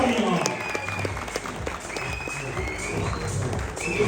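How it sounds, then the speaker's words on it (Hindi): Loud, sustained applause from an audience greeting cricketer Abdul Razzaq at the Kingdom Valley map revealing ceremony, dense clapping throughout with voices audible underneath. "जोरदार तालियां।"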